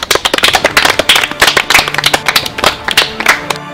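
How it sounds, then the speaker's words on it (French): A small audience claps for the two finalists of the Koh-Lanta Junior season finale, sharp individual hand claps in an uneven rhythm, close and fairly loud. "On peut les accueillir et les applaudir"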